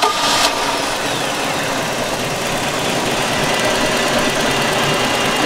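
A 2006 Tahoe 215 wake boat's engine fires up and settles into a loud, steady idle close by, a constant low rumble with a brief starter burst at the start and no talk.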